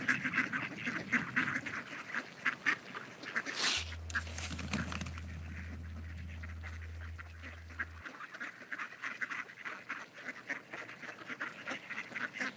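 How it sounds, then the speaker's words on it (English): Wild mallard ducks at a pond quack repeatedly in scattered, overlapping calls, faint and a little distant, amid a steady outdoor background with a low hum for a few seconds. "These are called mallard ducks."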